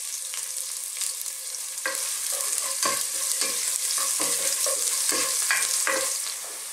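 Onion sautéing in a pan with a continuous bright sizzle and repeated clicks and scrapes of a spatula stirring, close and fairly loud throughout.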